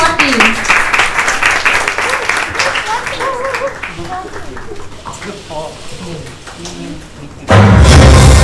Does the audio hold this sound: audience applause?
yes